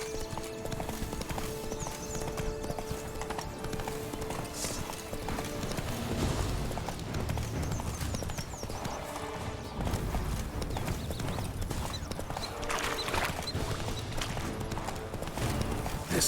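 Geralt's horse Roach walks in The Witcher 3, with a continuous, even clip-clop of hooves at close range over a soft game ambience, and a faint snort now and then.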